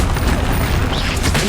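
In the Hogwarts Legacy video game, a Bombarda spell blast booms out as a loud, dense burst of explosive game noise that fills the whole short moment.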